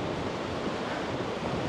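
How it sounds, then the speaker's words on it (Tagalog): Strong wind rushes through holes in a rock shed on the road to Baguio after two weeks of rain, a steady loud roar close to the microphone with no talk. "ramdam natin yung lakas ng hangin na nanggagaling sa mga butas dito"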